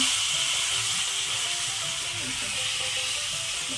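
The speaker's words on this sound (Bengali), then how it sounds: "পটল ভাজা হচ্ছে, আলু ভাজা" A steady, bright sizzling hiss of pointed gourd and potato frying in oil, continuous and even throughout, with faint low tones underneath.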